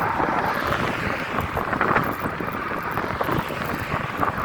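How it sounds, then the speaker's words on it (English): Steady, broadband wind buffeting a microphone during beach bicycling on Sanibel Island, Florida, riding into a headwind, a continuous rushing roar with no talk. "Plus I'm fighting a 3 mile per hour headwind."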